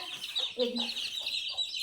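Chickens cluck and call close by as they are let out of the coop in the morning, a few short clucks and a brief squawk rising over a steady high background ring.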